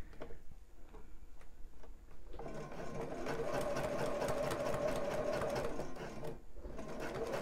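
A sewing machine stitches a bra band, running at a steady rapid clatter close by after a quieter lead-in with faint ticking, then easing off briefly near the end.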